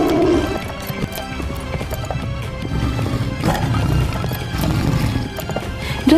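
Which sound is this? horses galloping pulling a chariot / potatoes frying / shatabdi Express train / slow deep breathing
horses galloping pulling a chariot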